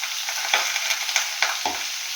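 Chopped vegetables with turmeric sizzle in a hot pan, a bright steady frying hiss punctuated by a few spatula stirs and scrapes, close and alone without talk.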